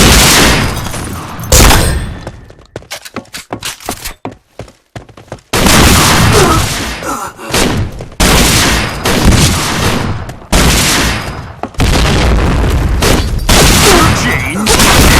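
Rapid shotgun blasts from the Point Blank shooting game, loud booming shots fired in dense bursts with brief gaps between volleys.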